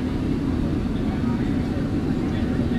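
Cabin drone of a Delta Airbus A330-200's jet engines on approach into New Orleans in gusty, bumpy air, a steady low rumble that holds evenly throughout.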